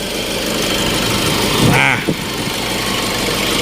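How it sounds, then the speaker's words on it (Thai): A 2015 Nissan Navara NP300 2.5 pickup truck engine idles steadily with a smooth, even hum. A brief voice cuts in partway through. "เสียงเครื่องยนต์นิ่มเดินเบาดีพี่น้องเอ๋ย"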